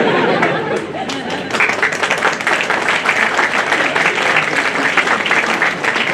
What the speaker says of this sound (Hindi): आपने पहले ऐसी तालियां तो नहीं बजाई कहीं?